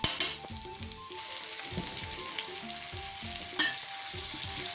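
Chili paste stir-fries in a hot wok over medium heat, a continuous close sizzle broken by rhythmic scraping strokes, with no talk.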